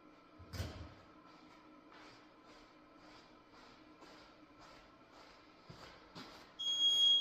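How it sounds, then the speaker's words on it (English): An exercise interval timer beeps in a series of short, evenly spaced electronic tones during a workout session, fairly faint, with a louder thump near the start and a brighter tone at the end. "Let me get my timer going."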